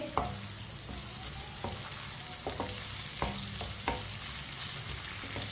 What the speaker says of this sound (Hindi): प्याज को मिक्स कर लेंगे।